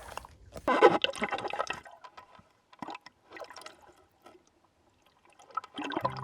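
A snorkeler submerges in a large blackwater river, with bursts of splashing and bubbling water close by, then quieter gurgles, a few short liquid pulses and another burst of splashing at the end.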